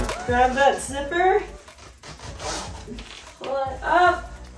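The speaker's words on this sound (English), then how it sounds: "Grab that zipper." A wetsuit zipper is pulled up in short rasping sections, close and moderately loud, between stretches of a person talking.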